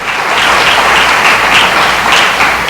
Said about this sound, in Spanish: démosle un aplauso al gran protagonista de nuestra historia